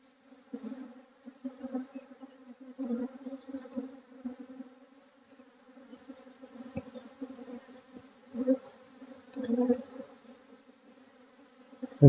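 Steady buzzing hum of many honeybees flying close by at an open hive during queen rearing, swelling and fading in waves, with no voices.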